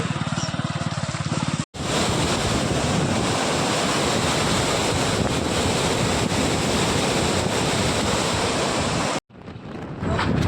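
Loud, constant roar of rushing water pouring over the overflowing Sodvadar dam, close by with wind buffeting the microphone; brief cuts near the start and end.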